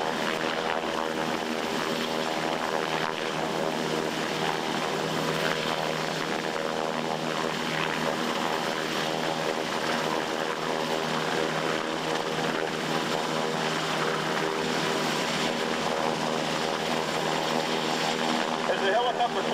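A military helicopter hovers loud and close over a barge during a special operations forces demonstration in Tampa, its steady rotor and engine drone running unbroken throughout as it lifts assaulters on a rope, with faint voices beneath.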